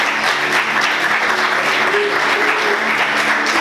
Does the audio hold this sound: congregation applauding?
yes